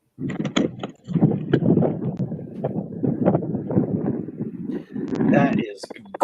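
Wind buffeting a microphone outdoors during a storm chase, loud rumbling gusts in long bursts with brief lulls, and a voice talking at times.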